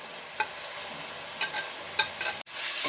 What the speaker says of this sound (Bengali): এখন আলু আর চিংড়ি মাছগুলো দিয়ে দেব এর মধ্যে